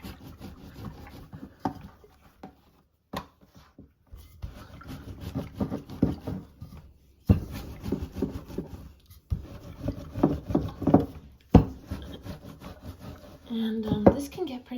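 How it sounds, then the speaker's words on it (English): A rolling pin scrapes and rubs over homemade tortilla dough on a wooden board, worked outward from the center in repeated rasping strokes, with short pauses between passes. "And we're just rolling out from the center,"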